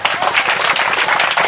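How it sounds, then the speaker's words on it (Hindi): Dense audience applause for Satya Kumari at a public gathering, with steady, loud clapping throughout. "तो सत्या कुमारी के लिए एक जोरदार ताली"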